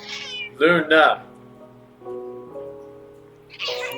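A cat in the Astlibra video game meows twice in quick succession, loud and close, then goes quiet while a steady tone hums underneath, with someone talking nearby.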